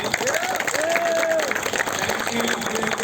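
An audience claps for the man of the match at a Partex Group event, steady applause with some crowd noise and a voice speaking over it.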